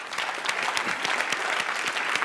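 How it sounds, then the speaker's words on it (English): An audience breaks into enthusiastic applause, a full, close wash of many hands clapping with sharp individual claps standing out, sustained from start to finish. "Would you give him a big round of applause, ladies and gentlemen?"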